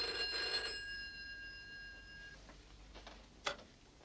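A telephone bell rings in a quiet room for about two seconds with a bright, steady trill, then stops, followed by a soft click.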